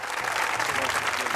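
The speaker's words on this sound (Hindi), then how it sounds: "आपकी भरपूर तालियों में डॉक्टर फ़खर अब्बास।" Audience applause breaks out at a poetry recital as a physician-poet is called up, a dense, steady wash of clapping from a crowd that holds even and loud throughout.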